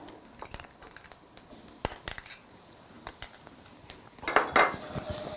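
Tomato paste goes into a cooking pot of okra with a spoon: sharp metal clinks and taps against the pot, scattered and irregular, ending in a louder cluster of scraping knocks.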